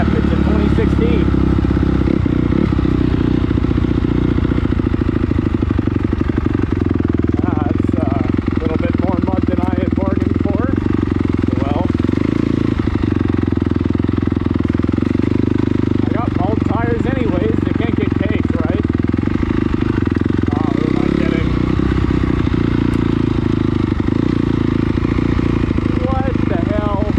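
A 2016 Honda CRF250R dirt bike engine runs continuously at a steady, loud rumble on a trail, with a voice talking over it throughout.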